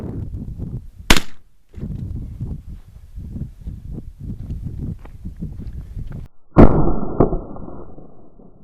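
A PMC Bronze .44 Magnum round fired at a gallon jug of spicy mayo dressing outdoors: a sharp loud crack, later a second hard burst with ringing decay, between stretches of rustling and shuffling noise.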